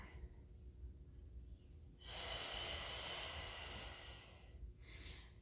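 One long, close, audible breath during a pilates mat class, a breathy rush lasting about two and a half seconds, then a short fainter breath, against quiet room hum with no talk.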